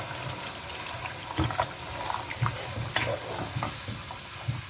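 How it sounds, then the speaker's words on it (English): Water pours steadily into a pot of Iranian Gheimeh stew, a continuous close splashing and gurgling with small bubbling knocks throughout. "Now I add some water and let it cook well."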